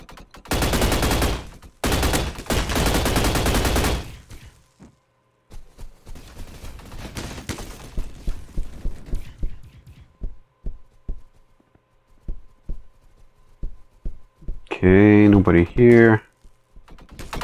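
Gunfire from the Roblox shooter Energy Assault: dense bursts of rapid shots open the scene, then sparse single shots crack at intervals, with a short voice and a brief tonal game effect near the end.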